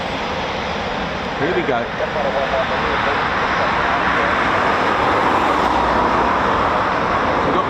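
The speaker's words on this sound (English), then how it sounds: "Typhoon's taxiing now." A Eurofighter Typhoon FGR4 jet taxis at RAF Coningsby, giving a loud, steady engine roar and broadband rush that holds throughout, with someone speaking briefly over it.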